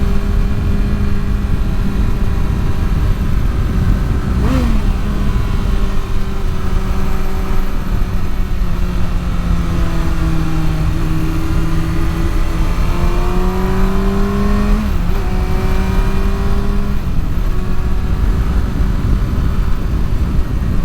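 A 2023 Kawasaki Ninja ZX-6R motorcycle cruising a twisty backroad, its engine droning loud and close with rising and falling pitch through gear changes, under steady wind roar.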